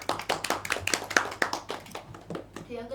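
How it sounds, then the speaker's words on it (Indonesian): A small classroom claps for a student's answer, a short burst of distinct, fairly close hand claps in an uneven rhythm that thins out after about two seconds, followed by a brief voice. "Tepuk tangan untuk Mbak Dewi."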